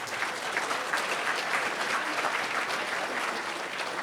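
Steady applause from an audience at a high school football awards ceremony, dense and continuous throughout, with faint voices mixed in.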